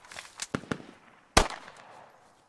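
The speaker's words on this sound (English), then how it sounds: "You're shooting a pistol." A few gunshots from a handgun in the video game Squad: a rapid cluster of sharp cracks, then a single louder, nearer report with a short decaying tail.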